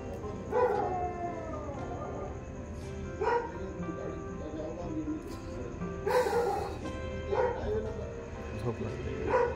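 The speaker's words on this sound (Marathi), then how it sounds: "कुत्र्या आणि झोपेची वाट लावली यार." Dogs bark and howl through the night near a camp below Bhairavgad at Moroshi. Repeated drawn-out howls and sharp barks come every few seconds at middle distance over a steady hiss of background noise.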